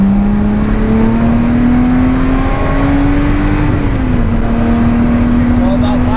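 A car accelerating hard around Oulton Park race track, its engine droning loud and steady as the pitch climbs slowly, then dips briefly and holds, heard from inside the cabin.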